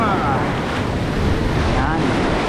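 Ocean waves crash and wash continuously onto the shore at a beach fishing spot, loud and close, with heavy wind buffeting the microphone throughout.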